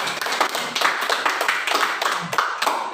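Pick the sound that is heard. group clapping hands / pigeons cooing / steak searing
group clapping hands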